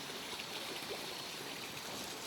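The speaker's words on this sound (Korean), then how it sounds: "물소리 때문에 잘 안 되는데" Steady flowing stream water by an old countryside home village, a continuous broadband rush and trickle with no breaks, fairly quiet and alone without voices.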